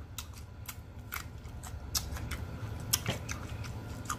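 Scattered light computer clicks, irregular and fairly soft, tapping away over a low steady hum in a quiet room.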